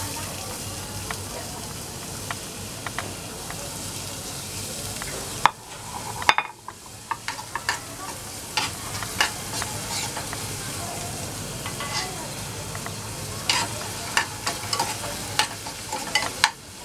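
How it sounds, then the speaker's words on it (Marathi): Finely chopped onion sautés in a pan with asafoetida for a capsicum and gram flour sabzi, giving a steady close sizzle with scattered stirring scrapes and clicks and a brief dip midway. "याच्यात आपण घालणार आहोत आधी कांदा बारीक चिरलेला"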